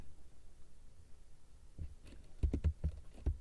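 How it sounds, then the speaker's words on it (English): Sparse keystrokes on a computer keyboard during office data entry, a few soft clicks that start midway and cluster toward the end over a faint room hum. "Then you start typing."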